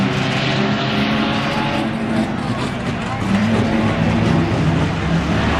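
Race cars roaring around Langley Speedway on the final lap toward the checkered flag, a steady loud engine drone throughout with a race announcer talking over it.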